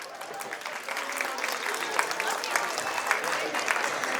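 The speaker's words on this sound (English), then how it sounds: "Please, huge round of applause." Sustained applause from an audience at the opening day of a school Model UN conference, dense steady clapping at moderate level with a murmur of crowd noise throughout.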